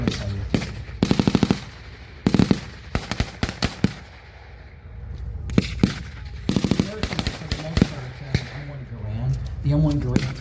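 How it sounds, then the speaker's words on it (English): Rifle and machine-gun fire at a World War II battle reenactment between American infantry and German troops, with sharp bursts and scattered single shots echoing outdoors, some close and loud, while a narrator speaks throughout. "So now they're starting to catch some fire from the American infantry on the German side."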